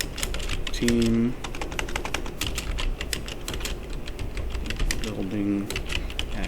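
Typing on a computer keyboard, rapid clicky keystrokes running throughout at close range, with a brief spoken word partway through.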